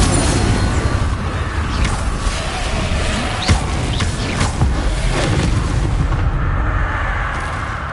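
The Confringo fire spell in Hogwarts Legacy bursts with booming blasts and crackling impacts in a loud, dense roar that stays continuous throughout.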